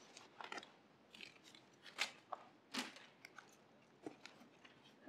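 Scissors trimming a garden plant stick, giving a handful of sharp, faint snips and crunchy cuts spaced irregularly against a quiet background.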